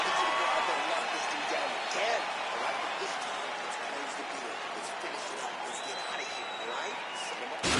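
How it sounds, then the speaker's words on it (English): An arena crowd at an MMA event cheering and applauding after a round, a dense, continuous roar of claps and voices held at an even level throughout. "So the crowd voicing its appreciation after that round"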